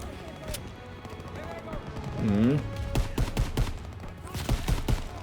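Gunfire in Call of Duty WW2, Operation Cobra mission, with sharp shots in quick irregular bursts growing denser toward the end, over battlefield noise and a voice talking.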